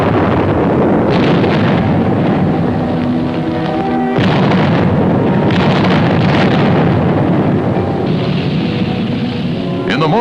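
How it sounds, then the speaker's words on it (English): Artillery guns dueling in France, August 1944, a continuous loud rumble of heavy booms with a sharp blast near the middle, steady low roar throughout. "Our artillery engaged in a duel with enemy guns."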